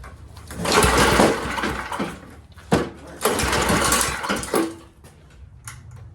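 A small engine with a poor carburetor is cranked in two bursts, each a rough rising churn that fails to catch, with a brief knock between and a quieter stretch at the end.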